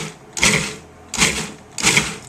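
Food processor pulsing salsa with cilantro, three short loud whirring bursts at an even pace, each about half a second long, with brief quiet gaps between them.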